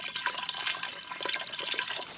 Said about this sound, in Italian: Andiamo subito a riempire l'acqua, così la facciamo bollire